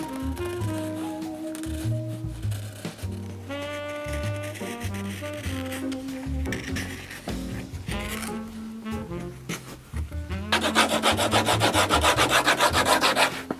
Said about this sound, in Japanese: この線書いてある部分を薄くしてちょっと削っていきます